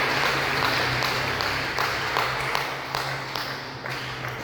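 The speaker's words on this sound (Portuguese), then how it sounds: "dê uma salva de palmas para Jesus" Church congregation applauding during a worship service, a broad sustained wash of clapping that fills the room and fades slightly toward the end.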